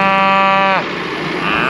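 A cow gives a single loud, close, drawn-out moo while being fed liquid feed on a farm, followed by quieter barnyard background noise.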